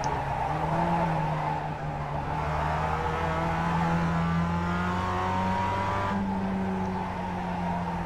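A Mazda Cup race car in a racing game at Charlotte Motor Speedway loses rear grip, its engine droning steadily and loud while rising tire squeal and skidding tones sweep over it for several seconds with no voices.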